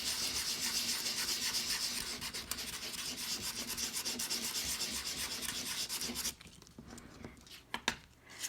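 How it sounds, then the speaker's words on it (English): Medium-grit sandpaper rubs across white core cardstock in rapid, steady back-and-forth strokes for about six seconds, close and fairly quiet. A few slower, softer scrapes follow. "you can use a coarser grit sandpaper. This one's kind of a medium grit."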